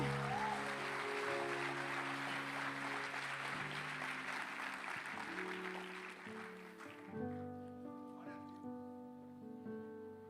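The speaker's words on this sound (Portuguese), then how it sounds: "Aplauda o seu Jesus, amém?" A congregation applauds in a church during a Portuguese-language sermon, a dense wash of clapping over sustained keyboard chords that thins out after about seven seconds as the music carries on.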